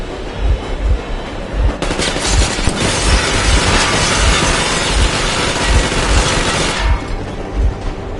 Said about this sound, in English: And look at all the machine guns.